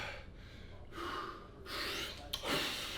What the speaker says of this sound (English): Big breath. Big breath.